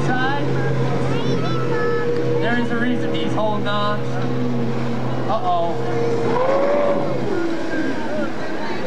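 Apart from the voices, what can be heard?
racing powerboat motors roaring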